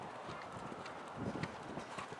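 Horse hooves canter during a riding lesson, a soft, fairly distant run of rhythmic clip-clop beats with no talk.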